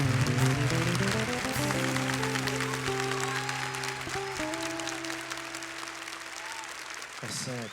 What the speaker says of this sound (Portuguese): Aplauda o Espírito Santo.